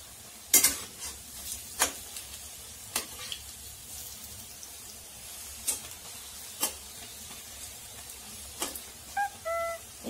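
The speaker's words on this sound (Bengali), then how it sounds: "এখন পকোড়াটা দেখি কত দূর। পকোড়াটা পাল্টে দেব।" Kadhi pakoras fry in hot oil under a low bubbling sizzle, with sharp intermittent scrapes and clinks as they are turned over in the pan.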